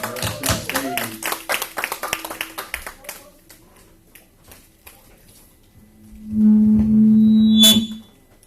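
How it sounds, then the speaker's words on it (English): Audience at a poetry show clapping to welcome the host to the stage, a burst of many hands that tapers off over a few seconds, then a quieter stretch and a sustained electronic drone. "so we can give her a round of applause"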